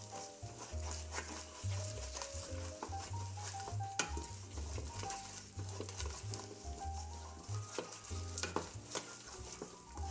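Wheat halwa with ghee stirred continuously in a pan, a dense, steady sizzling and scraping with a rhythmic clatter of the spoon against the pan, no voices.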